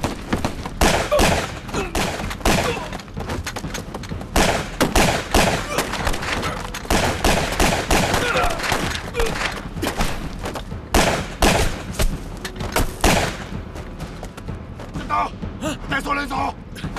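Gunfire in a battle scene from an anti-Japanese war TV drama: dense, rapid bursts of shots and heavy thuds run almost continuously, with voices speaking over the loud, chaotic barrage.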